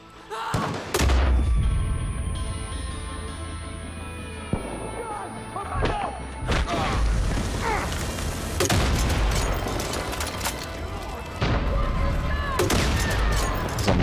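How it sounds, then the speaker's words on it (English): Distant mortar and gunfire booms from the first-person shooter Far Cry 5, with repeated heavy thumps and bursts scattered through a dense battle din and people talking over it. "There's a mortar somewhere."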